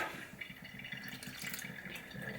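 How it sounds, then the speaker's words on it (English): Brewed coffee dripping and trickling through a Sea to Summit X-Brew filter, a steady close liquid patter with faint background noise, no voices. "Alright, drip, drip, drip."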